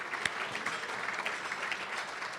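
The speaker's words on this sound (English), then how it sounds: "Let's give Rick a round of applause." An audience at a distinguished citizen dinner applauding, a steady round of many hands clapping at moderate distance for a few seconds.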